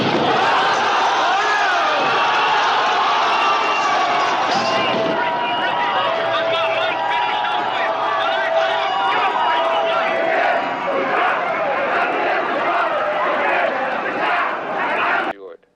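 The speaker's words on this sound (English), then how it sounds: "outraged crowds demanding action" A large outraged crowd roars and shouts continuously, a dense wall of many voices yelling at once, loud and sustained throughout before cutting off abruptly at the end.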